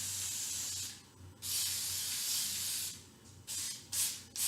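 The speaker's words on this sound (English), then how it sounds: "I spray the back of the pleather, nice coat there, then I spray the case." Spray adhesive hisses from a can onto the back of a piece of pleather and then onto a case. A long steady burst is followed by several shorter spurts, loud and close, with no voices.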